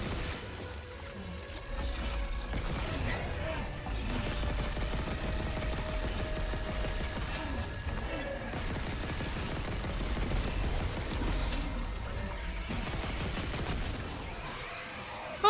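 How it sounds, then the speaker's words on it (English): Gunfire from a weapon aimed at a creature in the video game Dead Space, set aboard a ship, sounds as dense, continuous bursts of shots with booming low rumble over game music, loud and sustained throughout. "Shooting it, just normally shooting it, does seem to produce a like comparatively satisfying explosion."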